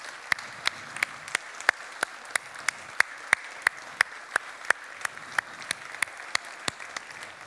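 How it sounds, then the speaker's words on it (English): A few people clap for organizers and volunteers at a React Native developer talk, slow, sparse, evenly spaced hand claps ringing out in a quiet room. "let's give them a round of applause"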